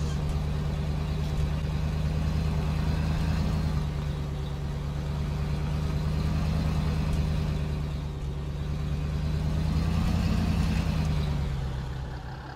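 Mercedes truck engine straining in mud in Euro Truck Simulator 2, a low droning hum held at moderate throttle, rising and falling slightly over a steady rumble, without talk.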